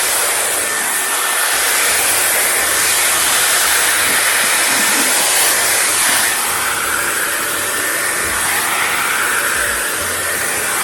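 Steady, loud whoosh of a hair dryer during styling, a Dyson Airwrap or a lookalike dupe, blowing continuously without pause and with no talking over it.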